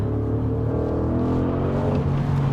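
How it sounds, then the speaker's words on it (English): A 2022 Audi SQ7 V8 rumbles steadily as it accelerates hard through a fast corner, a dense, continuous engine drone with layered harmonics heard from inside the cabin, alone with no talking. "listening to that V8 do its thing"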